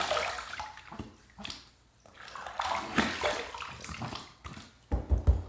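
Tap water runs and splashes while a vintage Gillette Trac II razor is rinsed after shaving, an uneven, close sloshing stream with intermittent surges and a few brief knocks.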